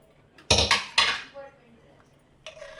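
A pressure cooker lid, cooled after four whistles with chickpeas inside, is opened in a home kitchen: two loud metallic clanks close together, then a scraping rattle, and a lighter clink a moment later.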